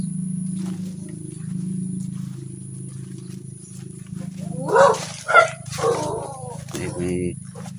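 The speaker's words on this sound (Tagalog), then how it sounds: "May ligaw na aso pa guys." A stray dog barks near an abandoned banana plantation in the Philippines, with a few sharp barks and yelps mid-way over a steady low hum.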